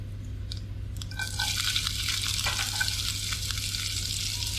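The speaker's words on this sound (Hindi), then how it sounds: "ये जब तक फ्राई होता है तो मैं इसके अंदर डाल देती हूँ प्याज" Onions sizzling in hot oil with cumin seeds and a little dried coriander in a frying pan, a steady broadband crackle that swells louder after the onions go in, with occasional stirring clinks over a low hum.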